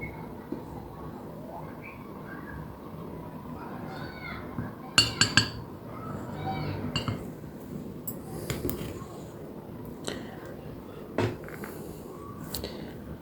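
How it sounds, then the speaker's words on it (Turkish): A Turkish coffee cup being opened and handled for fortune reading gives a few light porcelain clinks and taps. The clinks come in a short cluster and then as scattered single knocks over quiet room tone, with a person talking throughout. "fincanımı açıyorum"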